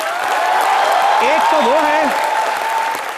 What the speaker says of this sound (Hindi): सो जोरदार तालियों से स्वागत कीजिए उनका।